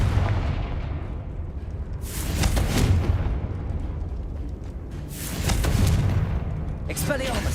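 Blasting-spell explosions from the Hogwarts Legacy video game burst out in loud, broad booms, two or three blasts with rumbling tails, while a player's voice talks underneath.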